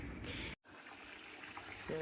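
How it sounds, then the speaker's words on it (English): Water gushes steadily from a hose topping up a 6500-litre koi pond outdoors, a continuous splashing rush with one brief cut in the middle. "So water's being topped back up."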